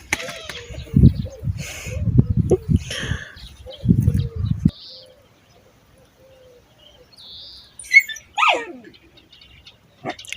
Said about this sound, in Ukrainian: гавкають собачки